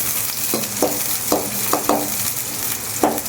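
Finely chopped small onions sizzle loudly in hot oil for a duck fry, with a steady hiss broken by a few soft stirring scrapes and no voices.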